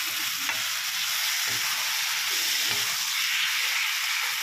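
A potato and tomato curry fries in oil while a spoon stirs it, giving a steady close hiss with a few scraping stirs against the pan and no talking.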